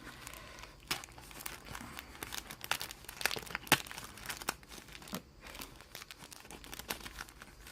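Small packets holding homemade flower embellishments are opened close up, with repeated crinkling and tearing of plastic in irregular bursts and quiet pauses between them.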